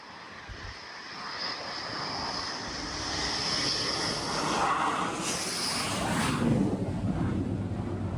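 Steady roar of a military jet engine as it lands on the aircraft carrier Charles de Gaulle, building over several seconds, loud and continuous with a rising rumble toward the end, no voices.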